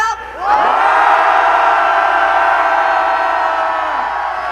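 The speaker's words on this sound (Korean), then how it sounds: "저희가 먼저 청운동으로 함성을 보내겠습니다." A large crowd at a street rally near Gwanghwamun roars with sustained cheering and shouting, a dense wall of voices that swells in after a brief lull and holds loud and steady to the end.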